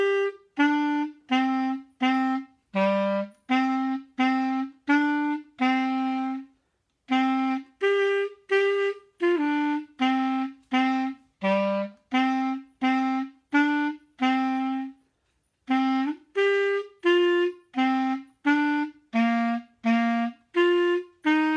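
Clarinet plays the A section of a tune in a steady, bouncy rhythm of short repeated notes, heard alone and close with two brief pauses between phrases.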